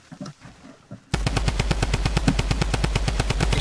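Rapid sustained drum gun fire in a video game, a loud, evenly spaced stream of shots that begins abruptly after a quieter second and continues without pause, with no voices over it.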